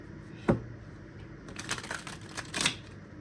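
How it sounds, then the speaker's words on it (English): A deck of tarot cards is shuffled close by, with a sharp tap followed by rapid riffling bursts and flicking cards, no talking. "I'm only going to do a couple quick shuffles here."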